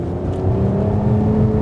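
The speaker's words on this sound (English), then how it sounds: "you can now buy a factory Toyota Camry that comes with a factory catback exhaust" Revving from a 2020 Toyota Camry TRD through its factory catback exhaust, a steady low drone that swells slightly and holds, close by with no talking.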